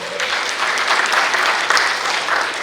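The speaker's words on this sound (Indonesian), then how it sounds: "Boleh kasih tepuk tangan teman-teman?" Sustained applause from an audience at an Indonesian investment seminar, dense and steady for the whole stretch with no voice on top.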